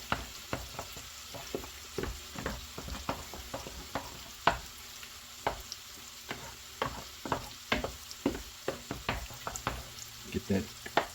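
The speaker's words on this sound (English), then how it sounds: "I'm going to stir this in" Colcannon stirred in a cast iron skillet: a utensil scrapes the pan in steady, repeated strokes about once a second, over a soft continuous sizzle.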